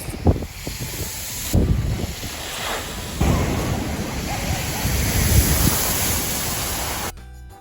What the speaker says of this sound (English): the next lookout facing the Atlantic Ocean, which can sometimes turn fierce.